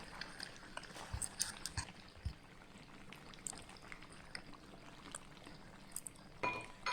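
Cabbage is stirred in a pot while cooking a Eurasian curry devil, giving soft scraping, sizzling and occasional clinks of a utensil against the pot, quiet and irregular.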